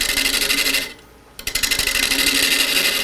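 A wood lathe spinning at about 650 RPM while a tool nibbles into a crotch-wood goblet blank, a loud rasping cut that drops out for half a second, then resumes with choppy bursts before settling back into steady cutting.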